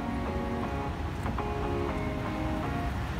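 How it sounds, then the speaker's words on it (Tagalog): Rough sea surf and strong wind roar steadily and loudly for a few seconds, with a dense broadband wash and no talk over it. "maalon siya eh. Ayun, malakas ang hangin. Sobrang alon."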